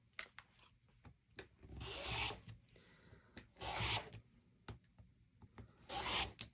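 A rotary cutter runs along a ruler through quilt background fabric. Three rasping strokes, each about a second long, come close and quiet at a steady pace, with small taps and clicks of the ruler between them.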